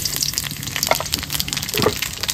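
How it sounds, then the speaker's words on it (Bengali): Spices temper in hot oil for a Bengali village-style duck curry, giving a continuous close sizzle with scattered crackles and a few stirring scrapes throughout. "ফোড়ন"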